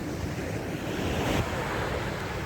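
Calm sea waves breaking at Southbourne beach on an evening, a continuous broad wash of surf with wind noise buffeting the microphone throughout, no voices.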